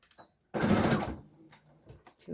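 A sewing machine stitches along a basting line to attach the welt on a men's waistcoat, giving one short, close burst of rapid stitching followed by faint handling noises.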